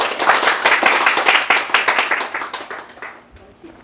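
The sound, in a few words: audience applause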